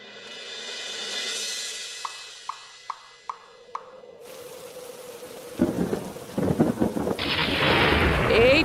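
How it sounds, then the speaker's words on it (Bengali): A thunderstorm with rain arrives in stages: soft wind and a few sharp drips give way to a rising rush of rain, then heavy downpour and a loud rumbling thunder crack close by near the end. "এই তো ঝড় বৃষ্টি শুরু হয়ে গেল"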